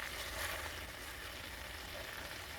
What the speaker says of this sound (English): So I'm just dropping my washed greens into the pot. They are going to cook down.